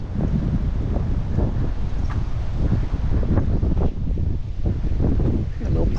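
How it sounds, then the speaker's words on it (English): Wind roars and buffets the microphone in a steady, heavy rush, with low gusty rumbling throughout and no pauses. "Oh, it's windy."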